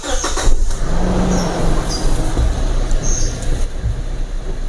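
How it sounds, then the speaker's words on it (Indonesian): A Toyota Fortuner's engine turns over and settles into a steady, loud rumbling idle close by, with no talking over it. "Kita coba starter ya Pak."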